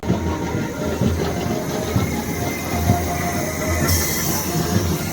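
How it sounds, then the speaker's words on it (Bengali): A train pulls into a station platform with a heavy, continuous rumble of railcars, rattling wheels and a thin metallic squeal, staying loud and close throughout. "তো গাইস ট্রেন চলে এসেছে"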